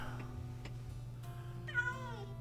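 A cat in a Minecraft-style crafting game gives a single rising-and-falling meow late in the clip, clear and close over a steady hum of game ambience and soft ticking.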